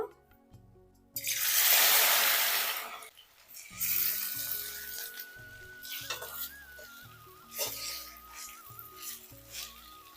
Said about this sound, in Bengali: তেলের মধ্যে এখন আম দিয়ে দেব